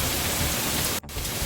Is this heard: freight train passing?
no